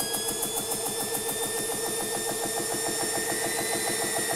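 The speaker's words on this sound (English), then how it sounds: "turn my compressor on." A small portable air compressor fills a Brocock Ranger XR .22 airgun toward 3000, running as a steady close mechanical chugging drone with a rapid regular pulse and a high whine over it.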